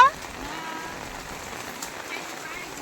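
Rain falls steadily outdoors on a farm, a soft, even patter and hiss that holds throughout at moderate loudness, with a voice heard briefly.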